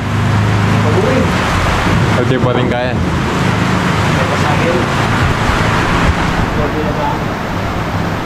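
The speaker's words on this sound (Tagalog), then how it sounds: "So kahit umuulan, lakas po ng ulan." Heavy rain pours steadily outside a bamboo nipa hut, a dense continuous roar throughout, while a person speaks briefly over it.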